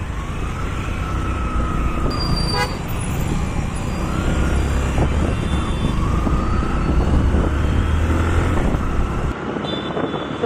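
Steady, loud wind rushes past a microphone while riding a vehicle through hot Coimbatore, a continuous roaring buffet with traffic noise underneath that drops away abruptly near the end.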